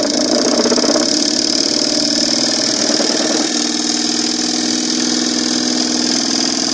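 A DC motor runs steadily with a continuous buzzing whir, loud and close, its tone shifting slightly partway through.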